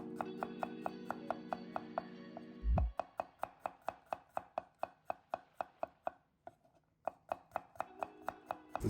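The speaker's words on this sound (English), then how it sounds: "you're gonna slice some garlic" A knife slices garlic on a cutting board in a steady, quick rhythm of crisp taps. About two dozen evenly spaced strokes come close and clear, with one brief pause near the middle.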